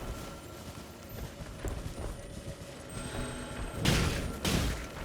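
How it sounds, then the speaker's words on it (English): Heavy, loud footsteps of enemies patrolling in Elden Ring thud in an irregular rhythm over an ambient game backdrop, with a few stronger impacts near the end. "it's just these guys patrolling. They have really loud footsteps."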